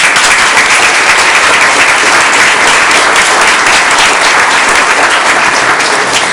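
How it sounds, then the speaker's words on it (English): Sustained applause from an audience at a school district board of education meeting, dense steady clapping filling the room for several seconds with no break. "let's give her a round of applause"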